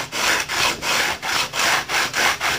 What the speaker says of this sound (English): all you're trying to do at this point is sand those off